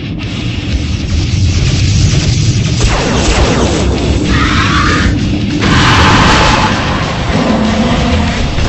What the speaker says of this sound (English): Target lasers and fire Yamatos on the creature.